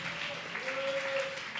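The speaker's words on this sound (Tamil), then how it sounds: "கைத்தட்டி ஏசப்பாக்கு ஒரு மகிமை செலுத்துங்க பார்க்கலாம்" A church congregation applauds during a Sunday sermon, a brief, dense patter of clapping heard from a distance with a faint sustained tone running beneath it.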